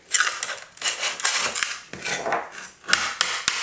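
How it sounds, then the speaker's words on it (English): A hammer and putty knife chipping away at hard, stubborn stuck-on material, a series of sharp metallic scraping taps and clinks in an uneven rhythm, close up and without talk. "It is not really coming off too well, even with a hammer and a putty knife."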